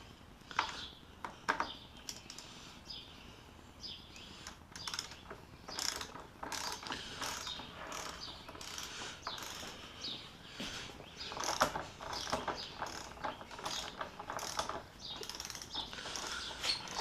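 Ratchet tightening the front wheel bolts during a front tire replacement, with repeated quick clicking bursts and mechanical rattles at close range, continuing irregularly throughout.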